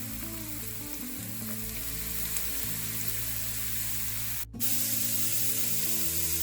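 Cabbage with crushed ginger and garlic fries in hot oil for Hakka noodles, a steady close hissing sizzle that runs unbroken apart from one brief dip, with no voices.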